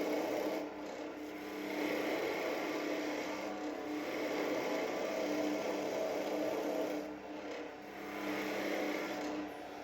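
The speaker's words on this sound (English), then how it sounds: "The skew tends to leave a really nice cut, very smooth" Steady rasping, scraping cut of a skew chisel against wood spinning on a lathe while turning a birdhouse ornament body, continuous and close, with brief dips in intensity.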